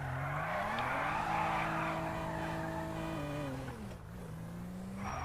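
A super car races in a video game, its engine note rising steadily through the gears as it accelerates hard, then dropping and climbing again near the end, loud and continuous with tire noise throughout.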